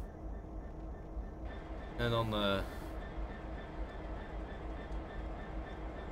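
Train uncoupling in Train Simulator 2019 on the Hanzelijn: a brief, fairly loud metallic clank and hiss lasting under a second, set against a quiet rumbling cab background while someone speaks.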